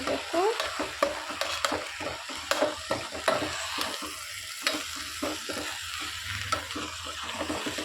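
Vegetables for veg pulao fry in a pan while a spoon stirs them, giving a continuous moderate sizzle broken by regular scraping strokes against the metal, close and free of speech.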